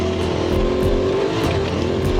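An off-road vehicle climbs uphill through sandy terrain on a ride to Knapp Ranch, its engine roaring loud and close in a continuous, strained drone with no pause throughout.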